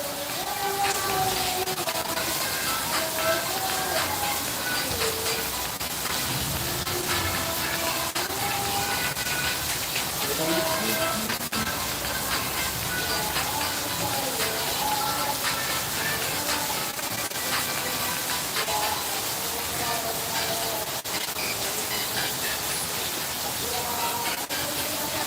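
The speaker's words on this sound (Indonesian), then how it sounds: "Kondisi di sini hujan teman-teman ya" Heavy rain falls outdoors at a street performance with ondel-ondel Betawi giant puppets and clowns, a dense continuous hiss throughout while voices and music-like tones run underneath.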